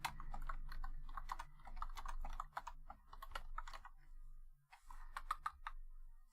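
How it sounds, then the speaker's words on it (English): Close, quiet clacking of a computer keyboard comes in quick irregular bursts of keystrokes with short pauses, then a final flurry. "I'll type in chat here."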